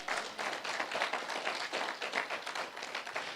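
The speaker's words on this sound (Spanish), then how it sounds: "Dale aplausos al Señor, amén." A church congregation claps for the Lord during a service, a quick, dense and continuous round of many hands clapping at a moderate distance, with no voices over it.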